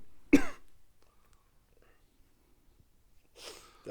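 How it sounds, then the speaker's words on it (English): A person coughing after smoking, one sharp harsh cough near the start, followed by quiet, then a short breathy throat sound at the end. "That might be the first time I coughed."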